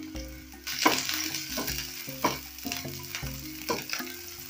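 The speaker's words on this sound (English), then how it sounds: "Then I'm going to add in my onions, and I'll saute this till they start turning translucent." Onions sauté in oil for a fish curry, a close crackling sizzle broken by repeated spatula scrapes and taps against the pan, roughly every second, with no talking.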